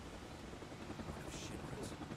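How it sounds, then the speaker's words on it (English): Helicopter from the Final Fantasy VII Rebirth video game, a steady broadband rotor drone held throughout at moderate loudness, with faint speech-like sounds mixed in. "Helicopter."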